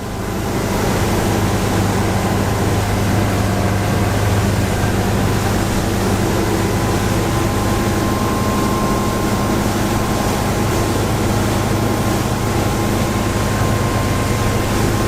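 A deep V motorboat runs at 20 knots at sea, a loud, constant roar of engine and rushing water and hull noise filling the whole stretch without a break, heard close from on board.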